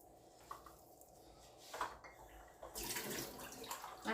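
Water is poured in a home kitchen in short, faint splashing bursts, with one at the start and louder pours later, mixed with light clinks of dishes.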